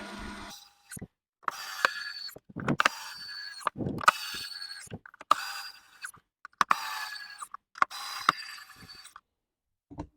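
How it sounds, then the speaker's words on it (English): Ratcheting screwdriver driving screws into a pressure washer part; clicking ratchet bursts repeat in several separate runs with short pauses between, close and clear. "then bolt it down or screw it down"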